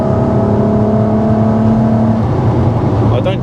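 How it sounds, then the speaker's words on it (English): A supercharged 360bhp MK4 Golf R32 cruises at low revs in fifth gear, a loud, steady droning engine rasp heard from inside the car, with a voice briefly under it. "even at low RPMs, you've got that rasp at the back"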